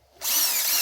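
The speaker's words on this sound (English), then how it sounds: "drill a hole in the bottom of this and see how they work." A power drill starts up abruptly and runs steadily at high speed, a loud close whine biting into material as it drills a hole in the bottom of a rabbit nest box.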